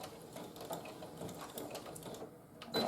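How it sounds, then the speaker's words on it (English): Sewing machine stitching a quilt-as-you-go table runner with a back stitch, a steady close mechanical whir with a fast needle patter and a sharper clack at the end. "I'm going to back stitch."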